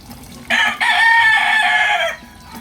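A rooster crows once, loud and close, a drawn-out call of about a second and a half over a quiet background.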